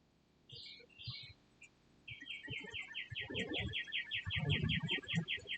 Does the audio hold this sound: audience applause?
no